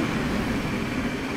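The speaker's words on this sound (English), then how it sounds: "Oh, there's another train going by." A passing train in the Train Sim World 3 railway game on the Peninsula Corridor route, heard as a steady, dense rumble and roar that stays loud and unbroken for the whole short stretch, with no voices.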